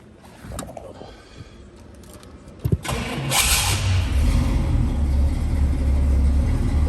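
A 1968 Pontiac Firebird with a fully rebuilt engine cranks briefly with clicks and a whir, then catches and settles into a loud, steady low idle close by.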